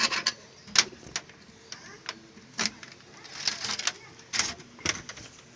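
Pigeons at a rooftop loft give a scattering of short calls and soft rustles, several sharp bursts spaced irregularly over a faint background, close by with no talking.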